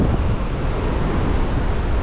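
Strong ocean waves crash and roar at Patapat, Ilocos Norte, near the Patapat Bridge, with heavy wind buffeting the microphone, a loud, unbroken wash of surf and gusts.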